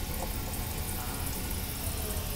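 Water runs steadily from the temperature-controlled faucet of an airplane lavatory sink on a LATAM flight, a loud, continuous close-up rush with no speech over it.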